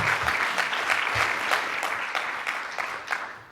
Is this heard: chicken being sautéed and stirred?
no